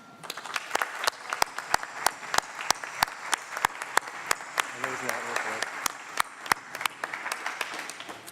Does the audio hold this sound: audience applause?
yes